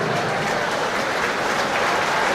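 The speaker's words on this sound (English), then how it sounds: "Met by applause by the fans here." Rugby crowd at a Northampton Saints v Leinster match applauding a substitution, a steady dense wash of clapping from many fans filling the stadium without a break.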